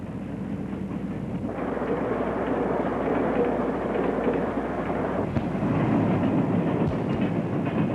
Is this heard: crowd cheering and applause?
no